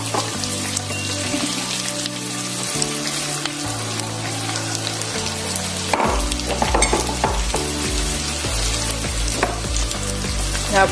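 Spring onion and vegetables stir-frying for shrimp fried rice, a continuous close sizzle broken by repeated stirring scrapes and clinks against the pan.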